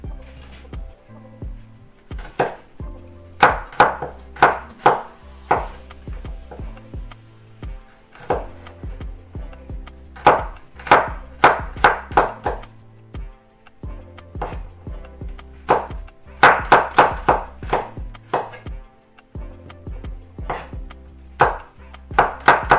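A knife chops garlic on a cutting board for macaroni soup, loud close knocks in quick bursts of rapid strokes separated by short pauses.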